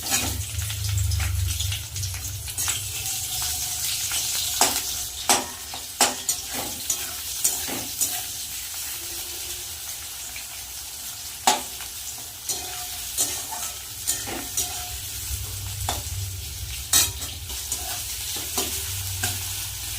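Chopped onions with black cumin seeds fry in oil in a pan, a steady close sizzle with frequent scrapes and clicks of stirring throughout, no voices.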